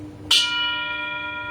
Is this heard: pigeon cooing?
no